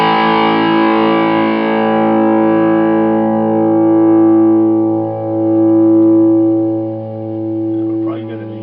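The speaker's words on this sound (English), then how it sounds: "Here's more distortion." A sustained, heavily distorted electric guitar chord through a Boss GX-100 rings out and slowly decays, buzzing and saturated, with a faint pluck near the end.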